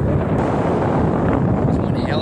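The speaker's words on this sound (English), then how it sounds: "so I apologize for the wind noise" Strong Wyoming wind buffets the microphone outdoors in a loud, steady, low rumbling roar that fills the whole stretch without letup.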